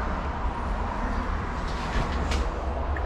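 Train cars, ending with a caboose, rumble past nearby in a continuous loud roll, with a brief squeal of wheels partway through.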